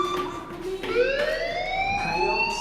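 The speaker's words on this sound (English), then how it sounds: "do you hear that fire alarm? That means you should be outside." A fire alarm in the Life Is Strange video game wails loudly with a rising, sweeping electronic siren tone that repeats and climbs in pitch, close and dominant.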